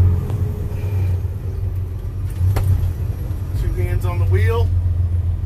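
A truck engine rumbles steadily at close range while the driver downshifts to fifth with a double-clutch ahead of a turn, and a voice speaks over the low drone.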